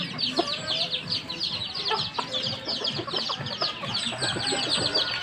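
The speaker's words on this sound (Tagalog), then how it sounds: "Pakainin natin yung mga sisiu." Chicks and chickens at feeding time, a busy close chorus of high peeping and clucking that continues throughout, with rustling movement underneath.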